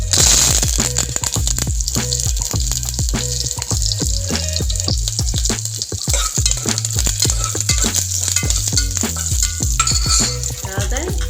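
Curry leaves hit hot oil for vegetable biryani and fry with a loud, steady sizzle and crackle, close up, joined by occasional stirring clinks against the pan.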